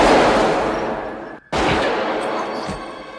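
Gunfire erupts in a chaotic film shootout from The Usual Suspects, a loud sustained volley that cuts out briefly, then resumes with a sharp report and further blasts.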